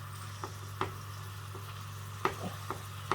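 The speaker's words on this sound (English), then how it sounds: "You just want to sear this on each side." Pork searing in a hot pan, a steady quiet sizzle under a low hum, broken by several sharp clicks and taps spread across the few seconds.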